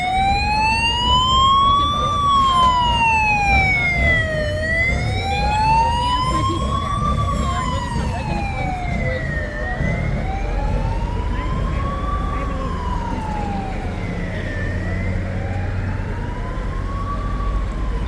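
Police escort sirens wail in repeated rising and falling sweeps, loud and close, over a steady rumble of road traffic and big buses in Luanda, Angola.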